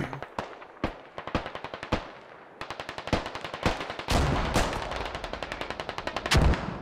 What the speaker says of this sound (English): Mortars landing behind the Russian position to their west.